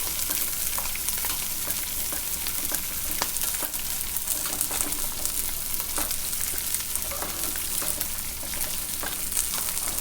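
Onions and green chillies sizzle and fry steadily in a pan alongside fish for a tamarind-leaf curry, a dense continuous crackle with scattered sharper pops and occasional stirring scrapes, close and fairly loud throughout, no voices.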